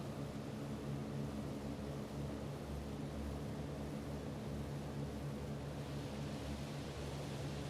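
Propeller engines of a Focke-Wulf Fw 200 Condor in Microsoft Flight Simulator drone steadily in a low, even hum with a broad rushing hiss, faint and unchanging throughout.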